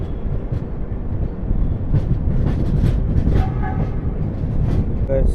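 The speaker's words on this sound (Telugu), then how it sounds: "ఇది కాకినాడ టౌన్ ఎక్స్ప్రెస్." The Tirupati–Kakinada Town Express, train 17249, rumbles past close by with a heavy rolling roar and rhythmic wheel clatter, plus a brief horn-like tone near the end.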